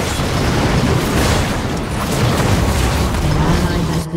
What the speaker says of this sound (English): Your team has destroyed an inhibitor.